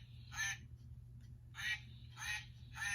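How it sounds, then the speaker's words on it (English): A mallard duck quacks in four short raspy bursts spaced about a second apart, fairly faint and distant over a low steady background rumble. "Mallard duck."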